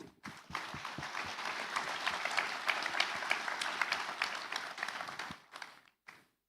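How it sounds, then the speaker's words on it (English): Sustained applause from a large audience at a business school undergraduate graduation ceremony, steady dense clapping for about five seconds before fading out, with a brief final burst. "let us all join hands to give them a warm round of applause."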